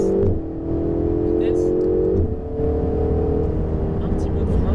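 A Ferrari 488 GTB with 670 hp on the Circuit du Laquais accelerates hard, its engine note climbing through gear changes close up inside the car while a voice talks over it.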